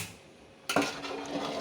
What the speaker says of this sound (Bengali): চিকেনটা মিশিয়ে দিয়ে আরেকটু জল দিয়ে